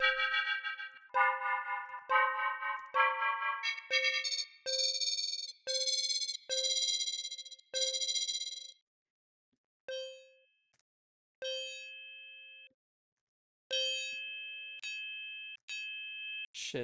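A synthesizer patch called bottomless pit plays a series of bright, bell-like tuned notes, first in quick rising steps and then as isolated, clear pings separated by short silences, with nothing else audible.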